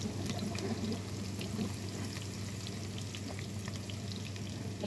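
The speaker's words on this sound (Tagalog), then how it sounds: "Ilagay na po natin yung ating bawang." Garlic sizzles in a generous amount of hot oil for spaghetti sauce, a steady, even crackling frizzle with faint scattered pops, heard alone without talk.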